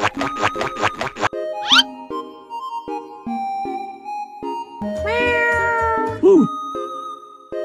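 Cartoonish cat meows from a Roblox Brookhaven roleplay game, several bright stylised mews and a long wavering cry among game chimes, boings and background music.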